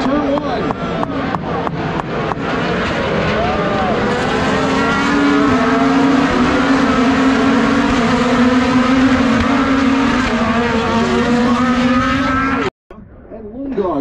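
IndyCar race cars at the Indianapolis Motor Speedway road course, accelerating three wide into turn one, with loud, high engine whine from several cars roaring past together under a commentator's talk.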